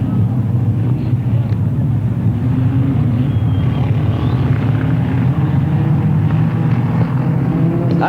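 The number 1 Offenhauser-engined speedcar at a 1986 speedway meeting idles and rumbles onto the infield, a loud, steady low engine drone with faint crowd noise behind.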